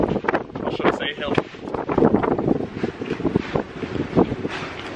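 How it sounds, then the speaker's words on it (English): Strong wind on a coastal hiking path in Santorini, Greece, roaring and buffeting the microphone in continuous loud gusts, with muffled voices partly buried beneath it. "It's extremely windy here."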